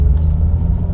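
A car engine accelerating during a driving lesson on a road gives a loud, steady low rumble held through the whole short moment, close up inside the vehicle, with no talk.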